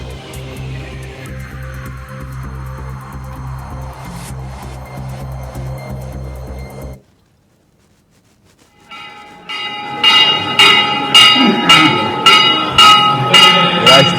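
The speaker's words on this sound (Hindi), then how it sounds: "बेल बजाकर, घंटी बजाकर इस कार्यक्रम की शुरुआत की गई" A bell rung to open a legislators' conference in Mumbai, a run of bright, sharp strikes in steady rhythm after a stretch of other sound and a short silence.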